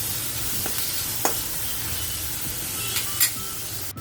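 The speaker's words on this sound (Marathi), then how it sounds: "कांदा छान परतवून घ्यायचा याच्यात." Chopped onion sautéing in a pan for a wild taakla greens dish, a steady soft sizzle with a few brief stirring scrapes and clinks, no speech.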